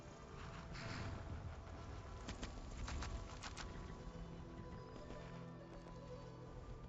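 A war horse in a video game clip-clops with steady hoofbeats and gives a whinny, fairly close, with faint bird cooing in the background.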